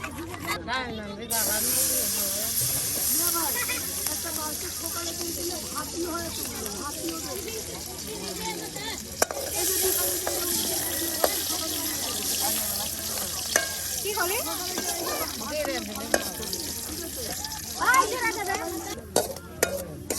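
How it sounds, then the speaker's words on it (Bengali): Garlic and cumin seeds frying in oil to temper dal, cooked outdoors by a riverbank; a soft continuous sizzle and hiss with stirring scrapes, heard beneath someone talking for much of the time. "এই যে আপনার তেলের সাথে রসুনটা একটু ভাজা ভাজা করা, তার সাথে নেওয়া হলো কিছু পরিমাণে জিরা"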